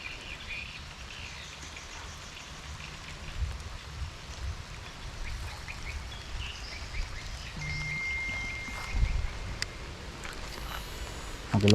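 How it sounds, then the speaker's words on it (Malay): Heavy rain falls steadily outdoors during a fishing trip for snakehead, a dense continuous hiss with a few faint bird calls in the background. "Agak lebat pula ni."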